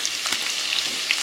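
Chicken pieces fry in a pan, giving a dense, steady sizzle with small crackles throughout a short, close stretch.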